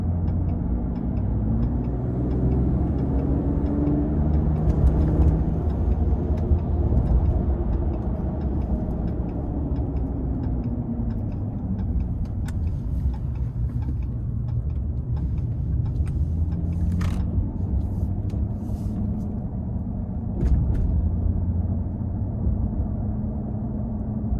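A 2025 Ram 1500 RHO pickup truck cruising, its engine and road noise forming a steady, continuous low rumble inside the cab with no talking.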